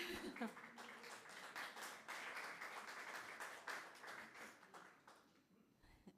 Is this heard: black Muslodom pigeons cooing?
no